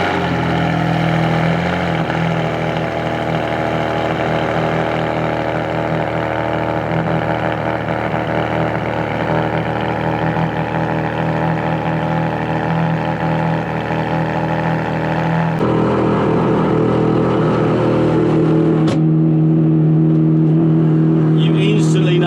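An Enzo Ferrari engine, a loud and dense mechanical roar with strong low harmonics and shifting pitch that holds steady, then changes character near the end and drops off sharply, with no talking.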